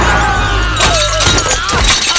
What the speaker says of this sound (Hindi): साइकिल टूट गई रे।